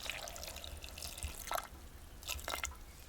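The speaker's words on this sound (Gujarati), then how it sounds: "અને થોડુંક નાખી દઈએ પાણી" Water poured from a little height into a pot of bitter gourds, a few short splashing and trickling bursts, close but quiet, with no talk.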